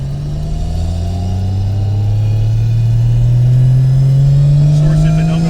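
A 750HP straight-piped Nissan R32 Skyline GT-R with a sequential gearbox accelerating, its loud, close engine note climbing steadily in pitch with a raspy exhaust drone, with people talking inside the car.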